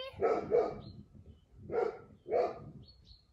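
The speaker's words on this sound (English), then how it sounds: "She's a very friendly dog. She just likes to bark." A friendly dog barks in two doubled pairs, four sharp close barks with short pauses between, with faint bird chirps in the background.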